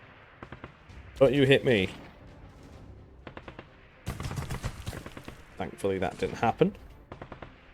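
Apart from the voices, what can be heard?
tank gunfire in video game Arms Trade Tycoon Tanks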